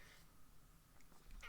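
A cat meows quietly at close range in an indoor room, giving short, faint calls with little else around them.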